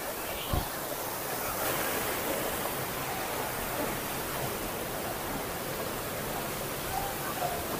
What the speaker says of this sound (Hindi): ये मेरी जिंदगी का सबसे बड़ा वाटरफॉल है